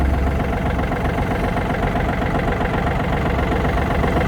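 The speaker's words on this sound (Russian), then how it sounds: "Работает на холостом, поднимает все хорошо." A Yanmar F200 mini tractor with a front loader idles steadily and loudly up close while the loader lifts, a dense low diesel rumble with constant vibration and no voices.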